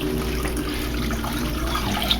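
Three cups of whole milk pour steadily into a casserole pan, a continuous close liquid rush with no breaks.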